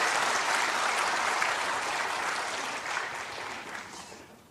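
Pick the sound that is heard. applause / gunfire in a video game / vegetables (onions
applause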